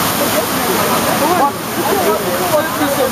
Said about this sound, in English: Kusana, kusana waterfall.